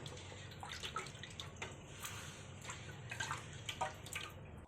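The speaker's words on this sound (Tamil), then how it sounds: "இப்போ நம்ம கட் பண்ணி வச்ச குடலை வந்து தண்ணி ஊற்றி நல்லா அலசி எடுத்துக்கலாம்." Steady running water splashes and trickles continuously, with small drips and sloshing as cut goat intestines are rinsed under it, close by.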